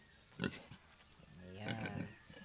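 Newborn piglets nursing from a mother pig named Tisay, with soft grunts and squeals bunched in two bursts, close by and moderately quiet.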